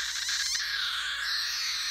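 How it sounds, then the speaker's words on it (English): Loud, close raspy begging calls from a weaned baby cockatiel, a steady grating screech with slight pulsing, continuing without break. "but that's the sound of a baby begging."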